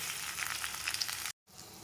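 Sliced onions and chopped tomato fry in a pan for chicken curry with a steady, close sizzle and a few faint stirring scrapes, cut off by a brief silence before the sizzle returns.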